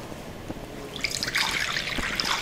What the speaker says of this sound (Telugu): శనగపప్పు ఉడకడానికి సరిపడా నీళ్లు వేసుకుందాం